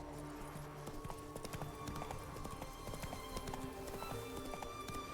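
Hoofbeats of Roach the horse in The Witcher 3, a steady, continuous clip-clop of galloping hooves, fairly close, over a soft background of game ambience, with no talking.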